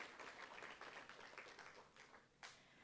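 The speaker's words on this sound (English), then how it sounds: "If y'all can give them a round of applause" Round of applause at a University of South Carolina Student Government meeting, a quiet, steady patter of many hands clapping heard from a distance, with no voices over it.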